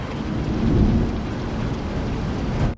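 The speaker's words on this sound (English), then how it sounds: "Watch what happens when the storm starts." An AI-generated thunderstorm outside an apartment: heavy, steady rain pours while a deep roll of thunder rumbles loudly underneath, with no voices.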